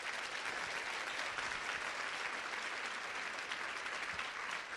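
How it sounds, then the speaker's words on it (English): An audience at an annual leadership event gives a sustained round of applause, a uniform, moderately quiet clatter of many hands that continues steadily for several seconds with no voices. "let's give them another round of applause"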